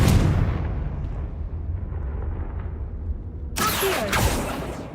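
A Confringo fire spell explodes in Hogwarts Legacy with a loud, deep boom, followed by a long, fading rumble. A sharp crackling burst hits near the end.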